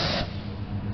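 Aerosol rust treatment sprayed under an Audi A5 around the fuel tank strap, a steady close hiss lasting about a second with no talk.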